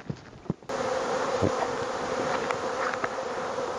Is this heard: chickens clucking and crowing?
no